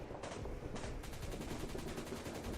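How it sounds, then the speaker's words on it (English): Rapid militia gunfire in a jungle wargame video game set in Colombia, a dense string of fast repeated shots over a rumbling background, fairly faint and with no talk. "All right, that's it for militia gunfire."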